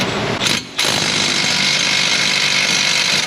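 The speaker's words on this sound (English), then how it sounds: "I should be able to use my little right angle impact or something and a swivel socket." A right angle impact wrench hammers at the wheel hub bolts of a 2017 Ford Fusion inside the wheel well, loud and close, with a rapid rattling drone broken by one brief pause before it runs on steadily.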